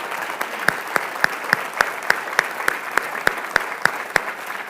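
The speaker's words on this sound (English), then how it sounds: "Let's give them a big round of applause." An audience at a Tennessee gubernatorial forum gives veterans a round of applause, heard as a soft wash of clapping with regular sharp ticks running through it.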